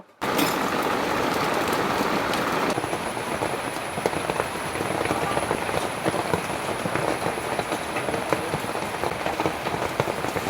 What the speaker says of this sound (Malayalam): ബാക്ക്ഗ്രൗണ്ടിൽ നിങ്ങൾ കേട്ടില്ലേ സൗണ്ട് നല്ല മഴയാണ്